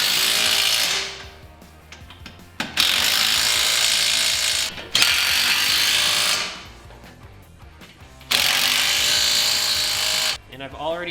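Ratchet tightening bolts while fitting a Razorback Offroad expedition rack with spare tire carrier, heard in several loud bursts of rapid clicking separated by quieter pauses, close to the listener.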